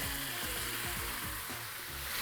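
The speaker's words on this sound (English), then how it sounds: "that loud sizzle, that's exactly what you want to hear" Beef hits hot oil in a wok and sizzles loudly in a continuous hiss, with soft low clatters of stirring underneath and no talking.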